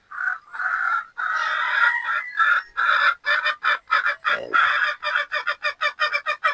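Boston Rounded pullets, young chickens, cluck and crow loudly and close by in a dense flock chorus, breaking into quick rhythmic pulses toward the end.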